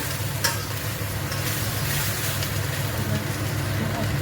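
Food being stirred in a pan with ghee, a continuous frying sizzle with scraping stir movements and a sharp clatter near the start, steady and close throughout.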